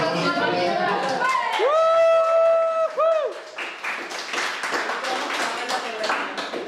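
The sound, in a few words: film crew applauding at the end of a shoot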